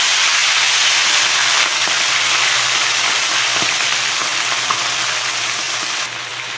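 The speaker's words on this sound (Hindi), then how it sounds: "ये ऑयल मेरा अच्छी तरह से फ्राई था आप इसकी वॉइस सुन सकते हैं" Continuous loud sizzling hiss of food frying in hot oil, steady and close, with faint crackles and pops scattered throughout.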